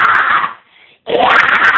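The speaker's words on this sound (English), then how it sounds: "That's pretty much a low scream, just saying." A person demonstrates a low vocal scream, two loud raspy bursts close to the mic separated by a brief near-silent gap.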